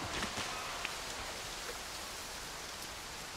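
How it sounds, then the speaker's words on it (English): Steady, soft rainfall in the video game Disney Dreamlight Valley hisses evenly throughout, a gentle wash of drops with no voices. "Did all that watering and it started raining."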